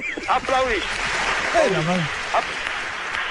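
Clapping on a radio show, a steady patter of applause in the background while expressive voices talk loudly over it.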